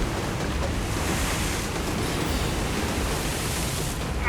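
Surf crashing on jagged rocks along a Cuban shoreline, a loud, continuous wash of broadband roar with no distinct breaks.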